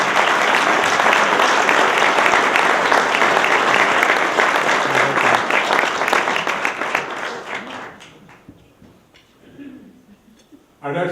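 Audience applause at a journalism awards ceremony, honoring the Hartford Courant: dense, loud sustained clapping from a large crowd for about seven seconds, then thinning out and fading into scattered claps.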